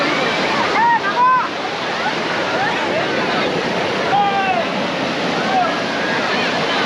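Sea waves wash steadily onto Puri beach during a crowded morning, with people bathing in the surf; the broad rushing roar holds throughout, crossed now and then by faint voices and short shouts from the shore.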